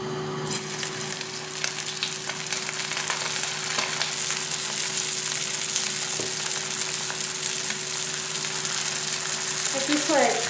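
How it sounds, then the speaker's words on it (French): Tuna and shrimp nems frying in hot sunflower oil, a steady crackling sizzle that stays even throughout, with a couple of faint clicks and a brief stir near the end. "maintenant il faudra les faire cuire dans de l'huile de tournesol"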